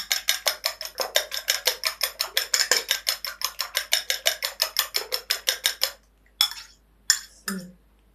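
Eggs are stirred in a bowl with rapid, rhythmic clinking of a utensil against the bowl, about seven strokes per second, then a few separate scrapes and taps.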